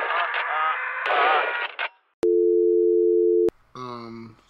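A phone's flat, unbroken dial tone sounds loud for about a second after the call is hung up, with talking voices just before and right after it.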